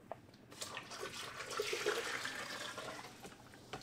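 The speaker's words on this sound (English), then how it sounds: "Put the water in here." Water is poured into a container on a kitchen scale during keto meal prep, a splashing gush that swells and fades over a few seconds with no talk over it.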